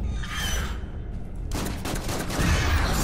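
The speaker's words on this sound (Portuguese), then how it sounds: "Consegui explodir mais um negócio ali, explodiu as paradas de pegar" Explosions and crackling gunfire in the video game Killing Room: a dense burst of rumbling blasts, a brief lull, then a second heavier volley with a deep low boom near the end.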